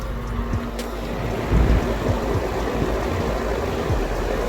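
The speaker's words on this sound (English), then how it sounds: "Fan turn on, and definitely you can also hear the compressor turning on now." Home air conditioner fan and compressor starting up, a dense, steady roaring rush with low rumble and a faint tonal hum, constant and fairly loud throughout.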